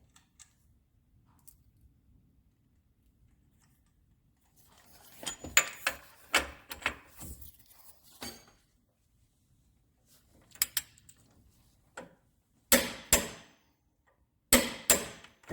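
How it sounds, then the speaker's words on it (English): A torque wrench set to 150 tightens an EMF lower ball joint with a series of sharp metallic clicks and ratcheting bursts in irregular clusters after a quiet start, heard close by with no talking. "Grab our torque wrench. Set it to 150."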